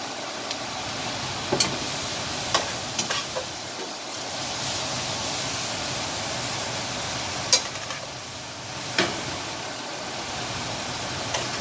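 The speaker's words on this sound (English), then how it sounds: "we're going to make sure that everything here gets nice and sauteed a little bit" Vegetables with carrots sautéing in topped-up oil for a beef ragu, a steady broadband sizzle and hiss close by with occasional light clicks and stirring taps, no talking.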